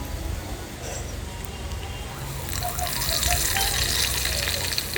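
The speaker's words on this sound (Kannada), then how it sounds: "ಸಾಸಿವೆ ಜೀರಿಗೆ ಹಾಕ್ಕೊಳಕತ್ತೀನಿ ಸ್ವಲ್ಪ ಗ್ಯಾಸ್ ಜೋರು ಇಟ್ಕೊಂಡ್ಬಿಡ್ತೀನಿ" Mustard and cumin seeds sizzle in hot oil on a gas flame turned up high, a steady crackling hiss that grows louder and busier in the second half, close to the listener.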